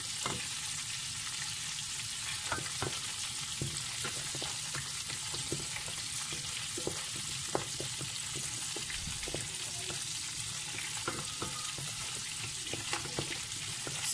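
Flour fries and sizzles in a pan with a constant bright crackle, while a utensil stirs and scrapes in quick, irregular strokes, close and continuous.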